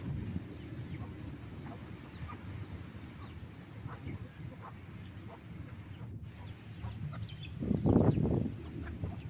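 Soft clucking from village chickens close by over a steady, strong summer breeze, with a louder burst of clucks near the end.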